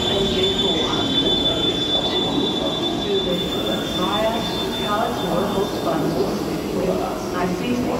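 A train pulls into a German railway station with a steady loud rumble and high squealing wheels, while voices talk nearby on the platform.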